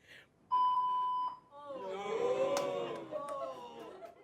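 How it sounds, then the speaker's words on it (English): A steady censor beep tone cuts over a man's speech, starting abruptly and lasting under a second before the voices resume with crowd chatter in the background. "Wait, why would you beep that?"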